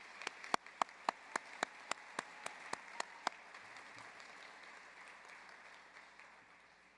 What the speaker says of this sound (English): Please join me in another round of applause for our master's graduates.